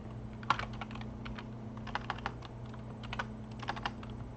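Computer keyboard typing, a soft run of scattered key clicks with an occasional sharper tap, set against a low steady background hum.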